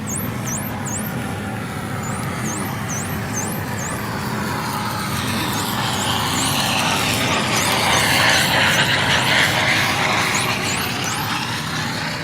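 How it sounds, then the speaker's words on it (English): Underwater, a boat's engine rumbles and swells as it passes, growing louder then easing, while dolphin whistles chirp repeatedly above the drone. "and then you'll hear a boat passing."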